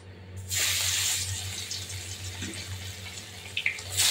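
Fish lowered into a very hot kadai of oil sets off a loud, steady hiss and sizzle that starts abruptly and runs on continuously, with a few small pops near the end.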